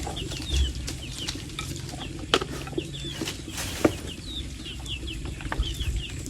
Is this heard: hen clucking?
yes